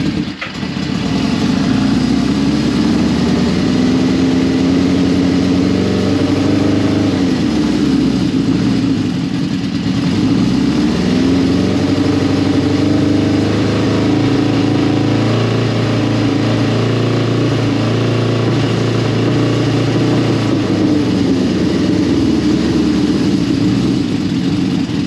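A naked motorcycle engine runs loud and close at a steady idle after coming back to life. Its rough, even drone holds for the whole stretch, with slight dips and rises in revs and no talking over it.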